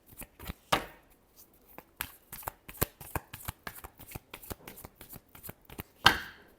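Tarot cards being shuffled by hand, a quick series of crisp riffling flutters and soft slaps in an irregular rhythm, close and fairly quiet, with a sharper burst near the end.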